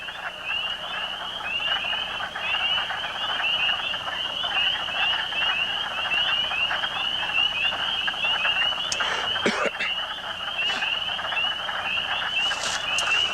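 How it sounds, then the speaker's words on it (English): Small frogs croak in a pond in a steady, dense chorus of high trilling calls that holds at an even level throughout, with a brief sharper sound near the end. "I can see the little froggies swimming around in the water, and I can see them croaking their heads off, and I can hear them."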